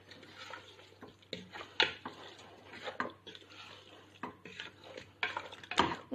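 A spoon scrapes and knocks against a cooking pot as frying vegetables, chickpeas and peas are stirred for chorba frik, giving irregular clinks and scrapes over a low, steady background hum.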